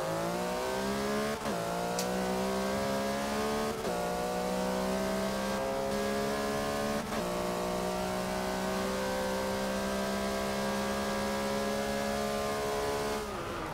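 A 2011 Porsche Flying Lizard race car in Forza 6 revs its engine loudly and steadily, with a rising whine and several sharp shift breaks across the run, no voices present.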